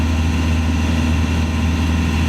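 A Norfolk Broads hire boat's 1.9 litre, 50 horsepower engine running beneath the floor, a loud, steady low diesel drone that holds unchanged throughout.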